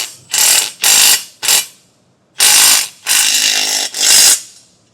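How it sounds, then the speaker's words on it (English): A ratchet wrench fitted with a 1/2-inch socket tightens a nut on a B&W Companion sliding 5th wheel hitch, giving six close bursts of rapid pawl clicking, each about half a second to a second long, with short pauses between them. "we can tighten that down with a 1/2-inch socket"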